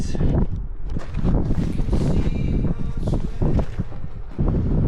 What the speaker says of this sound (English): Freaking windy here.